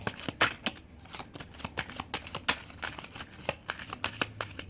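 Tarot cards shuffled close up, a steady run of quick crisp riffles and soft slaps repeating for several seconds with no voices.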